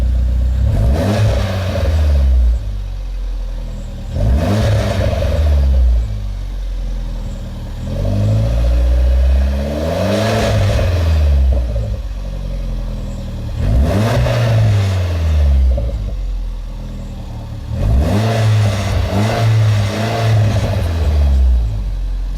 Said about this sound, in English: So it's definitely got a deep throaty sound.